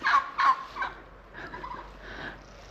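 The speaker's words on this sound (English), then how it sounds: "Yeah, there are turkeys." Turkeys gobble in a few rapid, warbling bursts, fairly close, followed by softer fowl calls fading off.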